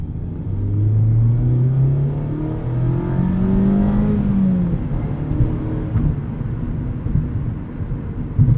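A 2019 Mazda MX-5 Miata RF Club sports car engine roars and revs, its pitch rising and falling as it accelerates, loud and continuous with no talking.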